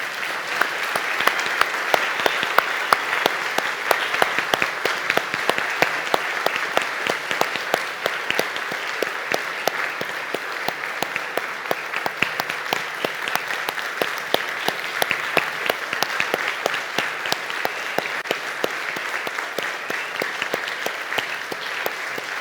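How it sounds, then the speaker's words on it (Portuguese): A seated audience claps steadily for students at a Brazilian event about pure seeds and sustainability, dense continuous applause from a large room, sustained for over twenty seconds without pause. "E mais um aplauso a eles também."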